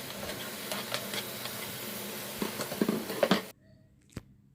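Squid masala with tomato sizzles and is stirred in a pan, a steady frying hiss with scraping and clicking spoon strokes that ends abruptly, leaving near silence and one sharp knock.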